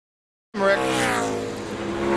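A NASCAR Craftsman Truck Series race truck roars past on the track after a moment of silence, its engine loud and close, then holds a sustained high-revving drone.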